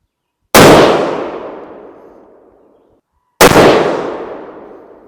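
Two loud rifle shots from a Ruger No 1 single-shot rifle, fired several seconds apart, each a sharp close crack followed by a long fading echo across open ground.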